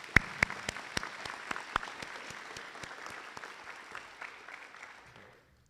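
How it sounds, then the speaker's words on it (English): Applause from an audience at a high school Veterans Day ceremony, opening with several sharp, loud individual claps before settling into steady moderate clapping that thins and fades out over about five seconds. "Let's give it another round of applause for Mac Bernard."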